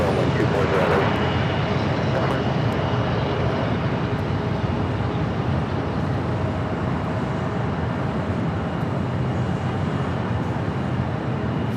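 An Airbus A380 airliner at Los Angeles LAX airport gives off a steady, broad jet engine roar that holds constant throughout, with a faint voice briefly over it near the start.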